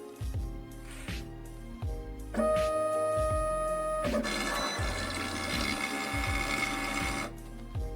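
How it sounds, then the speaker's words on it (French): An inkjet printer runs a print head cleaning cycle, whirring and clicking in a steady mechanical rhythm, then grinding louder for a few seconds before settling, close by and without talk. "vous allez lancer un nettoyage simple des têtes afin de retirer l'encre stagnante dans votre bloc d'impression"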